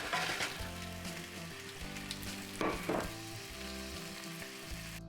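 Oxtail sizzles and crackles in oil in a hot pot while cooking down for Jamaican oxtail, with a steady frying hiss and a few louder spatters and stirring scrapes.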